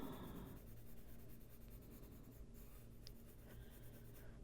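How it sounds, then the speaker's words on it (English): A colored pencil is drawn very lightly across paper in a continuous faint scratching, quiet and close, with no talking. "very light pressure with this pencil, almost barely touching the paper."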